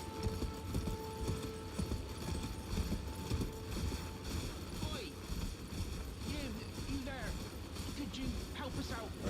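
Horse galloping in the video game Elden Ring, a steady clip-clop of hooves running under continuous game ambience and wind, fairly faint overall.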